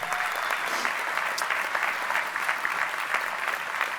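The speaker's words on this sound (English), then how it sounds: "let's just have a round of applause for him" Sustained crowd applause at a New York State AFL-CIO labor convention, many hands clapping in a steady, moderately distant roar throughout.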